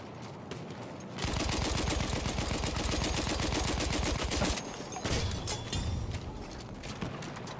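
Rapid automatic gunfire rattles in the video game Battlefield 1, a dense, loud, steady burst lasting several seconds, followed by more scattered shots and clatter amid battle noise.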